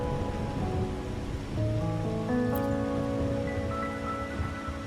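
Soft rain falls in the Wuthering Waves game during a rainy-night scene, a quiet steady patter beneath sustained musical tones that swell midway.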